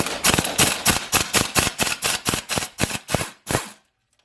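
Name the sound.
impact gun with extension removing transfer case bolts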